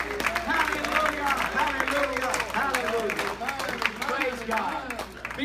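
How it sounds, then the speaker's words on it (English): Congregation at a gospel tabernacle Wednesday service breaks into sustained applause and hand clapping, a dense crowd patter lasting throughout with voices mixed in. "Give him a hand clap of praise."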